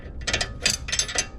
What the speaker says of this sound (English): using the other socket to counter turn this, so that you could loose this